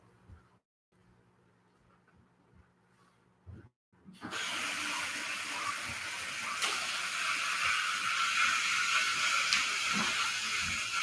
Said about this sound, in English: And then I go to the sink and I turn it on.